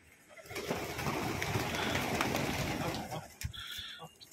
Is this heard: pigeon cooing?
yes